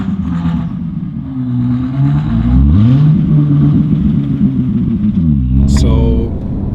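An 868hp Novitec-tuned Ferrari 296 GTB supercar engine revs up and falls back several times nearby on a cold, snowy day, its pitch rising and falling steadily, while people talk over it.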